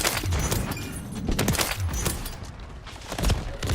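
Rifle fire from a five-round magazine in Call of Duty: Modern Warfare II, a few heavy shots with dense game sound between them, loud and close.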